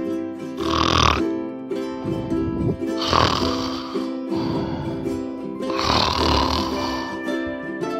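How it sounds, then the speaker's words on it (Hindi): A sleeping cartoon rabbit snores in deep, rhythmic, rasping cycles, three long snores over several seconds with a whistly exhale between, loud and close over a steady musical backing. "मोंटी खर्राटे लेकर सो रहा था।"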